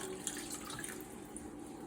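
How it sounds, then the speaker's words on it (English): Water pours steadily into a pot of rice in a home kitchen, a close, continuous splashing trickle with no voices. "Now time to pour the water"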